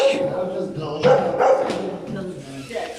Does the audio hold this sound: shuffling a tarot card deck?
no